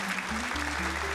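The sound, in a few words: applause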